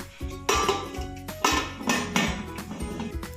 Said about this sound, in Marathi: आपल्याला कुकरचं हे झाकण लावून घ्यायचं आहे आणि त्याची शिट्टी काढून घ्यायची आहे